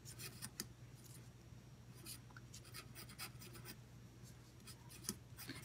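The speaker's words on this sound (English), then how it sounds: "I have these tools where you can scratch" Scratch tool scraping across a scratchboard, quiet close scratchy strokes in short irregular bursts over faint background hum, no talk.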